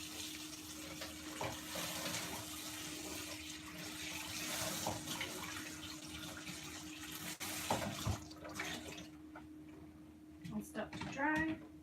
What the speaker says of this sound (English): This gets rinsed out.